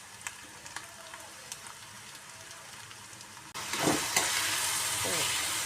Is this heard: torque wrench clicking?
no